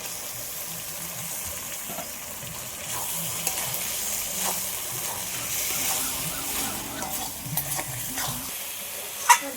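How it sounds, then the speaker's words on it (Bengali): Meat marinated in sour yogurt sizzles in spiced oil in a pan, a soft steady frying hiss broken by scattered stirring clinks and scrapes, ending on a sharper knock. "এবার আমি টক দই মাখিয়ে রাখা মাংসটা দিয়ে দেবো"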